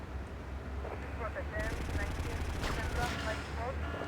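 Sniper rifle and other gunfire in the video game GTA Vice City, a loud, dense burst of shots and blasts over continuous game noise, with a sharp report near the middle.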